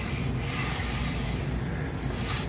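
Sandpaper rubbing steadily over wood and old glue on an arcade cabinet being restored, a constant close, loud scraping hiss with no pauses.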